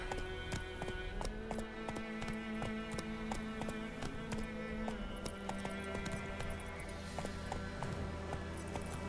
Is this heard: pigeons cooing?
no